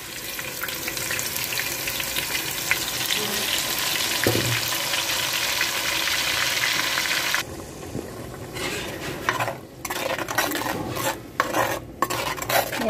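Tomato and onion masala paste fries and sizzles in hot oil with steady stirring for a fish curry in a clay pot, a broad hiss that breaks into intermittent scraping strokes in the latter half.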